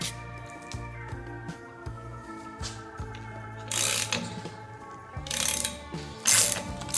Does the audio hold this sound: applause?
no